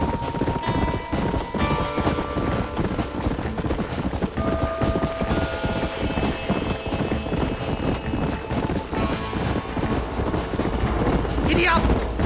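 Galloping horse hoofbeats from the Western video game Red Dead Redemption drive steadily through a dense, loud game mix with music and effects, while voices shout over the action.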